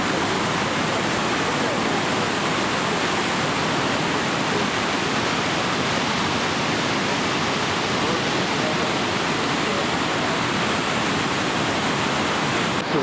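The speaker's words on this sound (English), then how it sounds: "Boy, these are some falls." The Yellowstone River falls roar as a constant, dense, full-bodied rush of water, loud and unbroken throughout.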